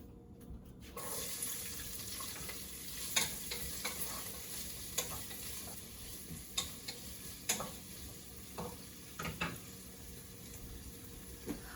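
Chard stems sizzling in hot olive oil in a pan, a soft, steady frying hiss broken by occasional stirring scrapes and clicks, fairly quiet and close.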